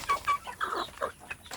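Free-range village chickens cluck nearby in a short run of soft, clipped calls and chirps, close and moderately loud, with no voices.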